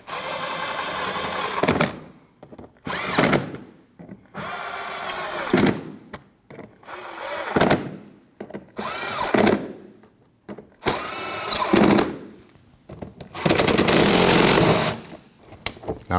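A power tool drives bolts into a 2013-2019 Ford Escape during washer reservoir replacement, running in repeated loud whirring bursts of a second or two each, separated by short pauses, close up with no talk.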